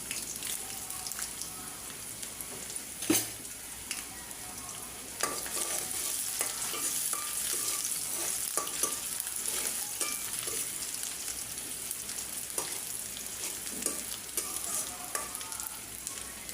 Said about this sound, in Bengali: আমি এরকম হালকা হালকা বাদামি ডালের মধ্যে বাগার দিই।